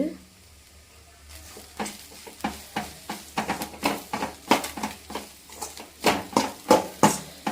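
Ingredients for a fish curry fry and get stirred in a pan, a steady sizzle under repeated scraping strokes of a spoon that land every half second or so, close and clear with no talking.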